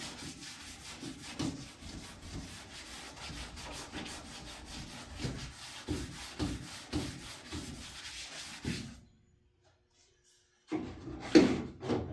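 Sanding block rubs rhythmically over primer on a blocked car body panel, repeated scratchy back-and-forth strokes for several seconds, then a pause before a final stroke.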